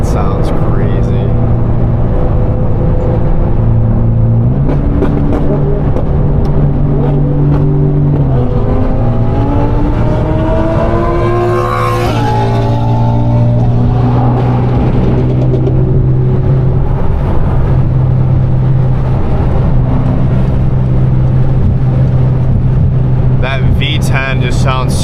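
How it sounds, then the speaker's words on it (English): An Audi R8 with a 1000 hp twin-turbo V10 and F1-style exhaust revs hard and continuously, its loud, raw engine note climbing and falling through high RPM with wind noise throughout. "V10 just sounds so raw when he's at a high RPM."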